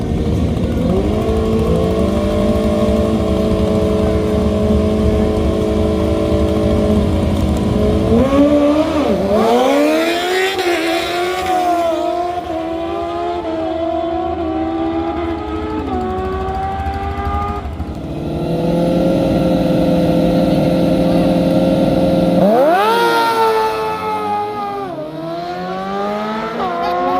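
A drag racing motorcycle at Jake's Dragstrip roars loudly as it launches and accelerates hard down the strip, its engine note climbing through rising shifts, with a second surge of acceleration later on.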